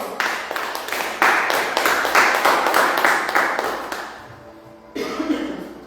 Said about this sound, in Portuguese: Aplaudindo o Senhor